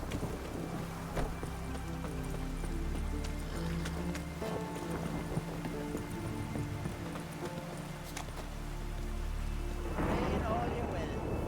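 In the video game Witcher 3, steady rain hisses throughout with horse hooves clopping along, and a burst of thunder swells near the end.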